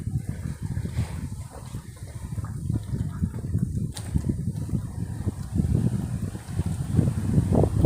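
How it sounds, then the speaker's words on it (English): Rough, gusty wind buffeting a phone microphone in a Vietnamese village, a continuous low rumble that swells and fades, louder toward the end, with no talking. "it's getting quite windy, so it's probably noisy on the phone"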